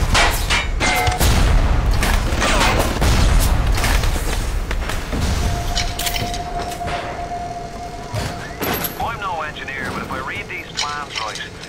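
Frag grenade blasts in BioShock: heavy booming explosions and rumbling debris fill the first half loudly, then fade into lighter clatter and squealing game noises, with a voice talking at times.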